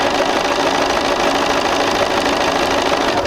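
A sewing machine stitches a quarter-inch seam on sampler quilt pieces, running as a steady, close, continuous mechanical whir for the whole stretch, with no talking.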